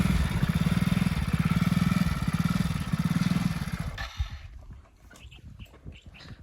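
A motorcycle engine idling and revving close by with a fast, steady pulsing throb, then cutting off abruptly, leaving faint clatter and distant ambient noise.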